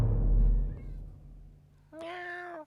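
A domestic cat in the Return of the Obra Dinn video game meows once, a short clear call near the end, after a low rumbling background and faint murmur.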